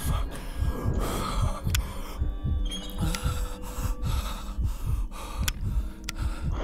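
A character in a horror video game breathes heavily and rhythmically, each ragged inhale and exhale pulsing steadily and close, with faint game ambience and occasional clicks behind.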